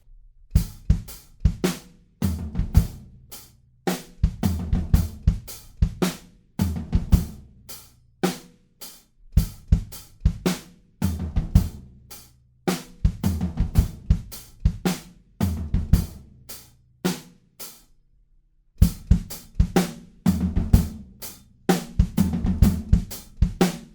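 A drum kit plays a busy, syncopated beat with shifting kick patterns and crisp cymbal hits, broken by a brief pause before resuming.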